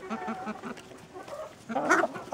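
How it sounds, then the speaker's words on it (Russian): Ameraucana chickens of various ages clucking nearby in a poultry enclosure, a run of short repeated clucks followed by a louder burst of calls. "здесь у нас амерукана разных возрастов"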